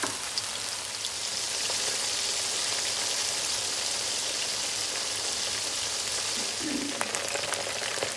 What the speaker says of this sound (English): that first batch has been frying off for around about 4 minutes